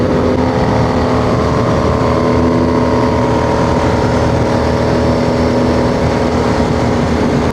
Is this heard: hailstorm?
no